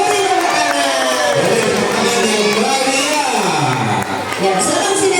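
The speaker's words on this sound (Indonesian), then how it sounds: "Beri tepuk tangan." Children at an elementary school Islamic storytelling contest shout and cheer as a crowd for a contestant, a loud, continuous excited roar with whoops, while a voice talks over it.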